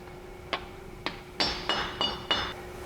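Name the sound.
tapping axle cap into place on 2007 Chevy Silverado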